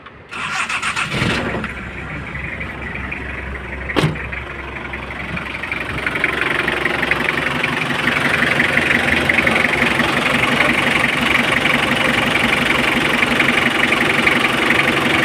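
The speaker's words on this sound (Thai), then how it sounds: "ติดเครื่องครับไม่ต้องพังหัวสตาร์ทได้เลยคร" A Toyota Hilux Tiger pickup's diesel engine cranks briefly and catches, then settles into a steady, loud, clattering idle that continues to the end with no talk over it.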